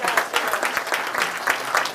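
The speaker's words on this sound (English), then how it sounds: "Clap for him, applaud," Audience clapping at a fashion show, a short burst of steady, moderately loud applause from a small crowd with a voice faintly underneath.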